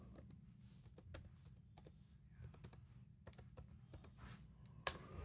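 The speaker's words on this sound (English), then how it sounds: "we type in" Quiet typing on a computer keyboard while entering a search, a run of soft irregular key clicks over a low steady hum, with one sharper tap near the end.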